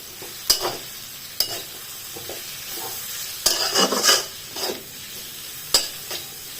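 Vegetables for veg hakka noodles sizzle in a pan while a spatula scrapes and stirs them in a few distinct bursts, close and clear with no talking.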